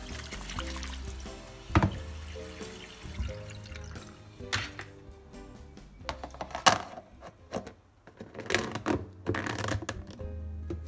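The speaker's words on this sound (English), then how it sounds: "I'm going to add a little bit of water" Water is poured over chopped carrots and potatoes in a bowl for a cheesy vegetable pastie filling, heard as short splashing pours and trickles mixed with light clinks and handling noises close by.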